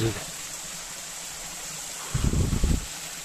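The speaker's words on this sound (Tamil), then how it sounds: "ஸோ இன்னைக்கு வந்ததுக்கு ஒரு குட்டி வாட்டர் ஃபால்ஸ் பார்த்தோம்." A steady rush of water from a small waterfall near Salem, Tamil Nadu, fills the whole clip, with a brief burst of low rumbling near the end.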